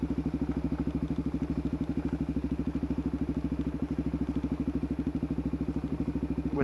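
Motorbike on a walking path at a hydroelectric dam, its engine putting along in a steady, rapid, even throb at moderate volume with no talk.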